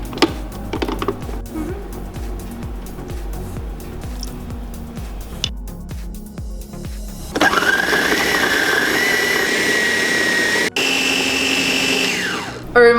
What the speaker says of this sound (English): it all goes into the food processor and just blend it until it's really smooth